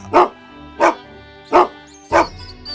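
A dog barks four times at a steady, measured pace, loud and close, with short silences between each bark.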